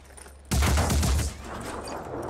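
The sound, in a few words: gunfire in the video game Phoenix Point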